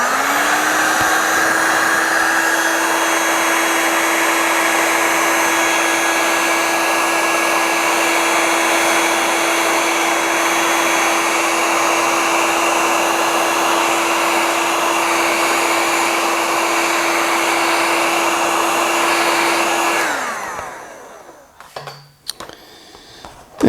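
A heat gun shrinks heat shrink tubing over wires for a 3D printer power mod, giving a loud, steady blowing whir with a constant whine that runs for about twenty seconds before switching off and winding down, followed by a couple of faint clicks.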